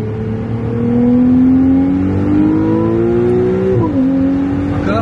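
Ferrari 296 GTB with an 830 hp engine revving hard under acceleration around a roundabout, pitch climbing steadily through the gear, dipping briefly at a shift near the end, loud and close from inside the car.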